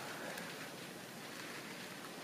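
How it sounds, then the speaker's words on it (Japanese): Steady rain patters softly and evenly on surfaces outdoors in autumn, a faint continuous wash with no voices over it. "雨音を聞きながら"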